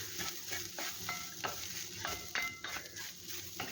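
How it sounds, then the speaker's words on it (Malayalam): Grated coconut fries in a pan while being stirred, a continuous soft sizzle broken by repeated scraping and metallic spatula knocks, close and fairly quiet, no speech. "തേങ്ങ ഒന്ന് ഫ്രൈ ആക്കാം"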